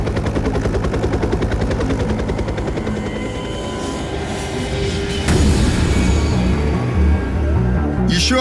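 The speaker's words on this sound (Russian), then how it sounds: "Ми-26 зависает над собратом, техники с трудом цепляют трос, и вертолеты поднимаются в воздух" Loud, continuous heavy rotor chop from Mi-26 heavy helicopters, a deep rhythmic thumping and engine roar, swelling louder about halfway through as the machines lift off.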